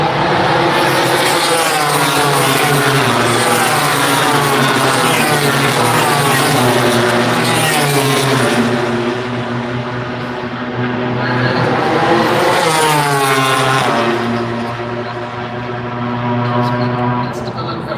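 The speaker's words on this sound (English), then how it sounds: "Playing onboard shots here. And really puts you into the scene on these motorbikes." MotoGP racing motorcycle engines heard onboard during a sprint race in Austin, a loud continuous high-revving whine that rises and falls in pitch as the bikes shift through the gears.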